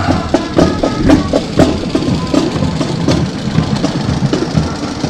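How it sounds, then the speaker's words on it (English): A 1951 John Deere tractor engine chugging by in a parade, pulling a three-bottom plow, with a steady rough rhythmic knock that stays loud and close throughout. "on a 1951 John Deere tractor coming through"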